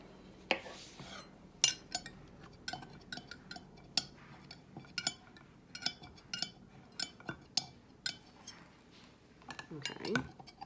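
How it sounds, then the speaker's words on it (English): A knife scraping and tapping against the inside of a glass candle container, working at leftover wax and wick glue, giving irregular sharp clinks and ticks at close range with some scraping between them. "I ran my knife on the side just to see how the wax on the side was"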